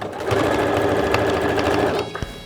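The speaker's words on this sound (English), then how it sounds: "I could hear that my machine is ever so slightly struggling to get through the denim" A sewing machine stitches across denim in one steady, close, whirring run of about two seconds before stopping, with a few soft handling clicks at the end.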